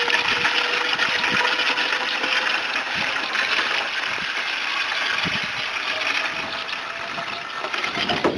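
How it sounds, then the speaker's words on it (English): Distilled water is poured into a battery-filling pump for solar battery maintenance, making a steady, close, continuous splashing gurgle that runs unbroken from start to finish with no talking. "So we take distilled water. Has to be distilled water."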